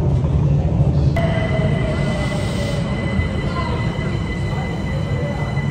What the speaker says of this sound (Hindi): ट्रेन और चल रही